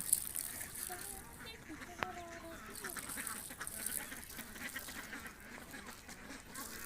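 Ducks on a duck farm at feeding time, with grain such as paddy, wheat and maize being laid out and water poured, give steady close quacking and honking calls in a busy flock, with voices talking now and then.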